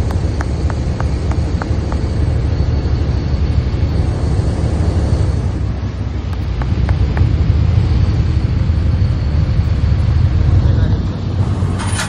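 A passenger launch boat's engine, put into gear, gives a steady, loud low rumble that thickens midway, while someone talks over it throughout.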